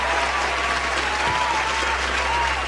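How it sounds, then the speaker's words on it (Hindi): Audience at a mushaira in Bangalore applauds to welcome the poet Rahat Indori: dense, steady clapping from a large crowd, continuous and even throughout, with a low hum beneath. "तालियों से इस्तकबाल कीजिए"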